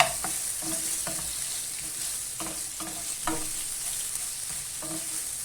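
Onions fry and get stirred in a pan for chicken fajitas: a constant bright sizzle with a regular series of spatula scrapes and taps about every half second.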